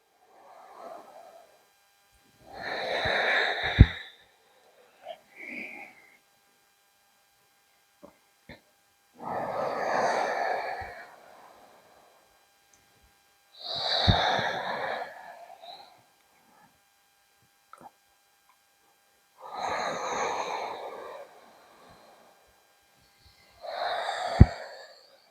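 Deep, slow breaths during a leg and hip stretching routine, five or six long breathy inhales and exhales spaced several seconds apart with silence between, close and clear.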